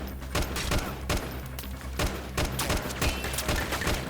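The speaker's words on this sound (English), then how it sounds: "I'm being shot now" Gunfire in the Freeman Guerrilla Warfare video game, a rapid irregular string of sharp shots and thuds, some close and loud and others farther off, with no talking.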